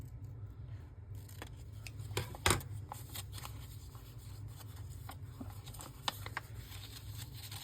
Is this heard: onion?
no